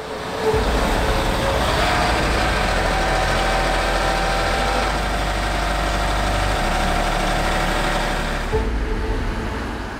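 A John Deere 8RX tracked tractor pulling a Köckerling Allrounder Flatline cultivator drones steadily at a constant low rumble, loud and continuous, with no voices, easing off near the end.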